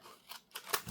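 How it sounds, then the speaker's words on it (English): Sharp scissors slice through paper in quick successive snips, close and crisp, with about four short cutting strokes in a second. "I love these scissors."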